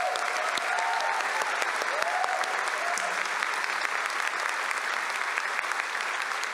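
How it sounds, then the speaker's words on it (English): Steady, sustained applause from a crowd at a dedication ceremony, dense and even throughout, with a faint voice briefly audible beneath the clapping. "So let's give him a round of applause as well."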